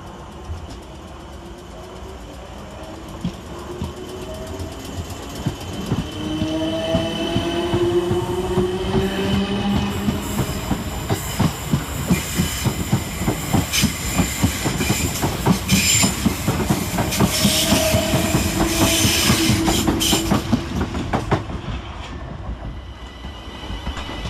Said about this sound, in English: Next out with the slightly delayed 1905 South Western Railway service from Kingston to London Waterloo is 455903 and 455865